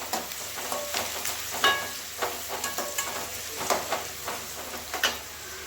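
Onions sauté over medium heat in a pan, producing a continuous close sizzle broken by a run of scraping stirs and soft clatters.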